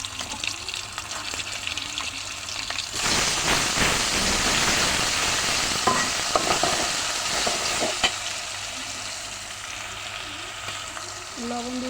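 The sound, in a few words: frying onions with ginger garlic paste for biryani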